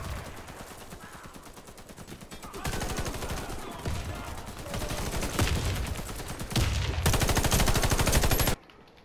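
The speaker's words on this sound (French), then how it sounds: "je pense que c'est mon arme qui fait trop de bruit, du coup, j'entends pas les autres armes" Rapid automatic fire from the player's own weapon in the online shooter Warface, loud and close, with long continuous bursts that swell, briefly ease, then resume before cutting off abruptly near the end.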